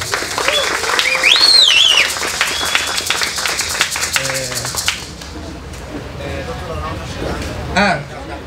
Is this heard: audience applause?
yes